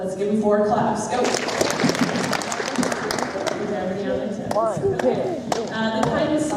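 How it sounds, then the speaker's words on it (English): An audience at a school academic honors and awards ceremony for grades 7 to 12 claps in a loud, crowded hall, with sharp hand claps ringing out over steady crowd murmur and voices throughout. "Let's give them 4 claps."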